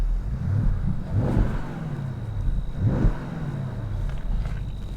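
A 2020 Porsche Panamera GTS V8 revs twice with its exhaust valves open, each throttle blip rising to a throaty peak and falling back to a deep idle burble, heard from the front of the car.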